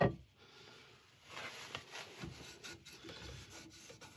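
A shear scraper on a woodturning lathe works across end grain on a hollow wooden form, giving a faint, continuous rasping scrape that swells and fades over a few seconds with no talking.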